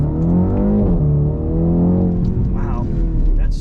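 BMW X2 M35i engine building revs under acceleration, a loud, close, continuous drone that rises and dips in pitch, with a voice talking over it.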